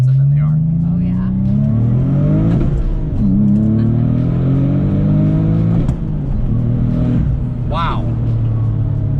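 A Porsche 986 Boxster accelerates hard from inside the cabin, its engine note climbing through rising gear sweeps with brief dips at the shifts, loud and continuous while people talk over it.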